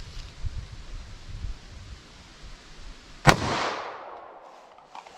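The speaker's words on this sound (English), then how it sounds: "let's see what we get here in our plain clear ballistics shot with our 9mm plus P" A single sharp gunshot from a 9mm +P pistol firing Speer Gold Dot ammunition into clear ballistic gel, one loud crack midway that trails into a fading echo over quiet outdoor ambience.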